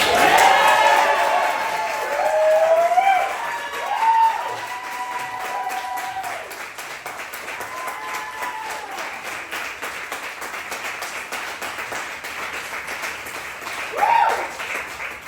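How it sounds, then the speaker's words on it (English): Cabaret audience in London clapping and cheering for a performer named Jake, a loud burst at the start that settles into steady applause, with whoops and a brief raised voice over the crowd. "can we please give a massive round of applause to Jake?"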